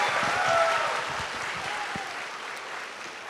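Audience applause for Lukman Amir at a campus talk-show event, a steady wash of clapping from a crowd that swells briefly then holds at a moderate level.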